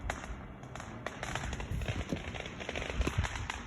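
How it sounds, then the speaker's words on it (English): Distant Fourth of July fireworks pop and crackle in scattered, irregular bursts, faint and muffled over a steady outdoor background hiss. "They're having fireworks on the other side over there."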